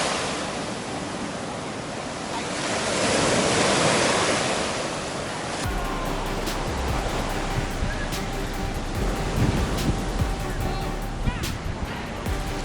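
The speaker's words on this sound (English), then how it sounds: "right where the waves are crashing up onto the beach" Ocean surf breaks and rushes up a black sand beach on Hawaii's Big Island, a loud continuous roar that swells and recedes, close by, with wind buffeting the microphone.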